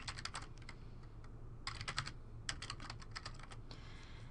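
Keystrokes on a computer keyboard while entering header text in Microsoft Word 2013, coming in quick irregular bursts of clicks with brief pauses, close and clear over a low steady background hum, with no talking.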